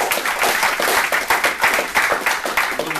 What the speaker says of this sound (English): Daryl and Dwayne, give them a round of applause.